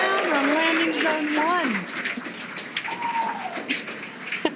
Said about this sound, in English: the crowd here is excited to see Falcon 9 touch down on landing zone